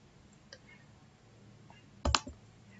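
Quiet computer mouse clicks on Windows 10 dialog buttons: a faint single tick early on, then a sharper, louder double click near the end against a soft room hush.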